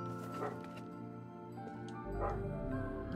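A dog in the Nier Replicant video game yips and whimpers, a few short faint calls mixed into a continuous music and sound-effect bed.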